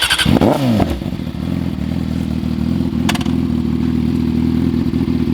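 A Yamaha R6 sport motorcycle engine, up close and loud, gives a quick rising rev at the start, then settles into a steady, throbbing run with a brief clatter midway.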